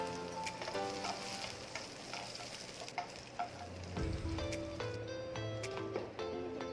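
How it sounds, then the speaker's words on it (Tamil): Long strips of onion and garlic fry in a pan with spices, giving a steady close sizzle with scattered crackles and a few stirring knocks, and no one speaks. "இதை போட்டு நல்லா செவக்க வதக்கிடலாம்."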